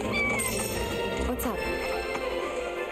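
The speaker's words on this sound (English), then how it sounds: "There's the cat." A cat meows in the video game Final Fantasy 7 Rebirth, amid a dense, continuous game soundscape of music and effects, with a voice talking over it.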